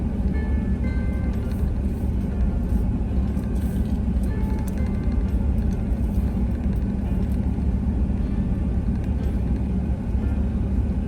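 A vehicle drives steadily along the asphalt and gravel roads of Drummer Boy Camping Resort campground in Gettysburg, Pennsylvania, giving a constant low road and engine rumble heard from inside, with no talking.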